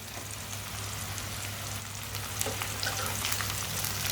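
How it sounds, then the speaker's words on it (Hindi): Chopped okra and onion frying in a pan, a steady close hiss and sizzle with scattered small crackles and pops growing slightly busier toward the end, under a low constant hum, with no talking. "भिंडी और प्याज को 3-4 मिनट के लिए भून लेंगे, पका लेंगे इसे"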